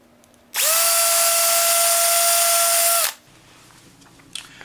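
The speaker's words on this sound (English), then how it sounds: "Simply mount the cutter into a cordless drill." A cordless drill spins a foam cutter for fly tying, a single loud, steady whine lasting about two and a half seconds that starts and stops abruptly, then quiet background.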